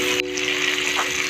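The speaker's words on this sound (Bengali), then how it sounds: "টমেটোগুলোকেও আলুর সঙ্গে আমি বেশ কিছুক্ষণ ভাজা ভাজা করে নেব।" Tomatoes and potatoes fry together in a pan for a Bengali vegetarian chana dal, giving a steady, close hiss and sizzle throughout with no voices.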